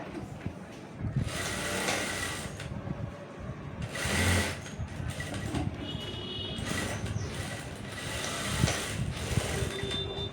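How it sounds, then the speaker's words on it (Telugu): A sewing machine stitches dress pants in bursts of fast, whirring mechanical stitching that start and stop, fairly close, with faint handling noises between runs. "మనం స్టిచ్చింగ్ అయితే చేసుకుందాం"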